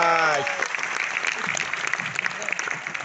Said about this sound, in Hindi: हम लोग कर सकते हैं जोरदार तालियां